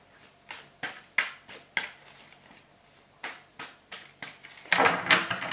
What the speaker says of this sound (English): just one sec, a couple more shuffles.